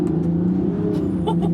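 A Land Rover Defender 90 pulls away hard on a runway, its engine rising in a steady, loud rev that builds throughout the short burst, close to the microphone.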